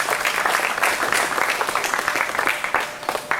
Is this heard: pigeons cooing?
no